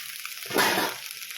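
Clams cooking in a pan for Mangalore-style clams sukka give off a steady close sizzle and bubbling that swells briefly in the middle, with no voices.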